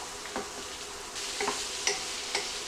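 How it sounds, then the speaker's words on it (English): Cream cheese, cut into strips at room temperature, being stirred in a hot dish as it melts for a stuffed mushroom filling, giving soft scraping and faint sizzling with a few light utensil clicks, fairly quiet and without talk. "he's gonna stir this around until it is nice and melted and all comes together"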